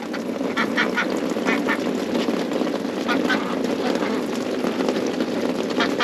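Farm ducks quack in repeated short bursts over a steady broadband rumble, moderately close, with a voice talking faintly underneath.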